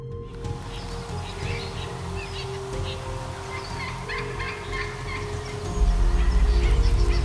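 Wild turkeys gobble repeatedly, a flock of overlapping rattling calls over a constant background drone that grows louder near the end.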